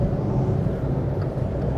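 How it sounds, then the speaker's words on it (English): Wind noise inside a 2016 Volkswagen up! cruising at 130 km/h, a steady broad rushing roar blended with low road rumble, close and constant, with no talking. "You hear wind noises, yeah, but they're not too bad."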